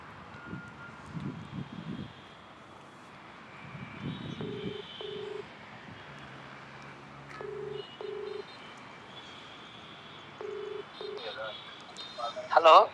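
Faint, evenly spaced dialing tones beep in short pairs and groups against a quiet hiss, with a few murmured voices early on.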